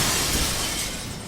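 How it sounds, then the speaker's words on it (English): A glass window smashes in the video game Death Mark. The burst is loud and brief, a dense crash of shattering glass with nothing else heard. "Smashes through the window and off into the night?"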